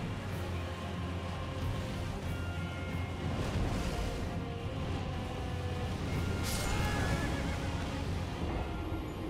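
A horse in the video game Elden Ring whinnies over a dense, constant layer of game sound, with galloping hoofbeats faintly mixed in through most of the stretch.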